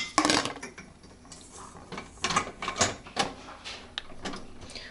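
The upper rack of a Whirlpool dishwasher being raised, producing a series of sharp plastic and metal clacks and rattling clicks at irregular intervals, close by and fairly quiet, with no voices.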